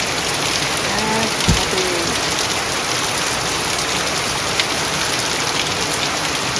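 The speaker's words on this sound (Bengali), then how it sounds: "উঠে দেখি এইরকম বৃষ্টি হয়েছে" Steady, loud rain falls on a rainy day, a dense continuous patter of drops on surfaces with no break, while a voice briefly speaks over it.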